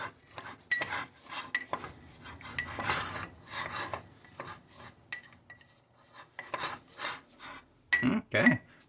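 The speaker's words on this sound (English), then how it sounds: "Continue to stir it up." A spoon stirs chili flakes through oil in a pot, giving repeated close metallic scrapes and clinks in uneven bursts, with short pauses between strokes.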